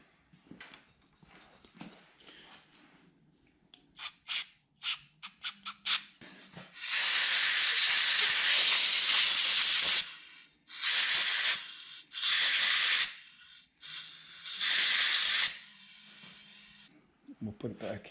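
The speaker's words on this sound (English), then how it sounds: "Now I'm going to brake clean these little filters." Brake cleaner sprays onto small torpedo heater filters in several loud hissing bursts, one long and several shorter, between quieter handling clicks and knocks close by.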